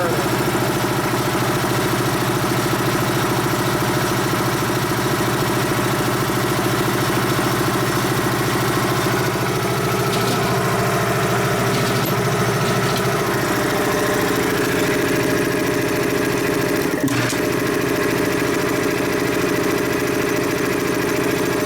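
A Dayton 240V 7.5hp shop air compressor runs steadily and loudly for the whole stretch, its motor humming with a deep drone and rhythmic pumping, while a brief clank or click sounds near the end.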